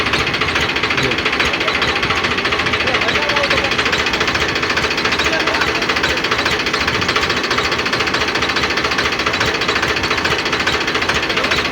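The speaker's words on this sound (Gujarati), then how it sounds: "આવી ગયું મશીન તો કંઈક ચાલુ કરવાનું છે" A loud fodder cutting machine chopping pearl millet stalks at a cow shelter runs steadily and continuously, a dense rattling drone that never lets up.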